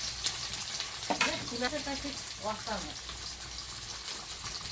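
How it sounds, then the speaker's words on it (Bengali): Onion, garlic, ginger and panch phoron fry in oil in a kadai, giving a steady crackling sizzle throughout with brief clinks and stirring, while a voice speaks in short bursts over it. "এটা এখন আমি একটু হালকা ভেজে নিলাম"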